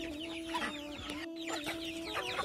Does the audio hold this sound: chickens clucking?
yes